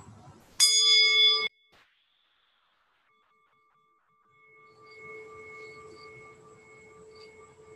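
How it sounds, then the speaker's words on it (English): A single meditation bell strikes sharply and rings briefly, then after a pause a soft, sustained tone hums quietly in the background. "we'll listen to our bell before we get started."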